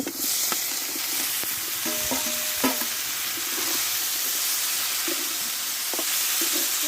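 Vegetables and masala stir-fried together in a pan for a prawn and Malabar spinach dish, with a steady close sizzle and repeated scraping strokes of a spatula, no voices.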